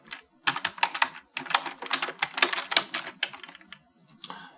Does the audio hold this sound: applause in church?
no